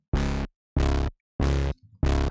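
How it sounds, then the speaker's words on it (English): A fat brass synth plays four punchy, even chords in a loose rhythm, each sustained briefly with rich low harmonics, plus a quieter low blip between the last two. "Originally, it's a fat brass synth that sounds like this."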